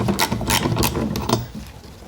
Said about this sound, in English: We're going to use our 5/8 spark plug socket and ratchet.